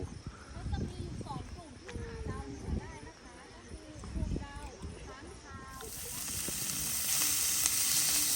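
Pork fries quickly in a pan at a mountain campsite, a crackling sizzle under people talking, swelling into a louder, denser hiss near the end.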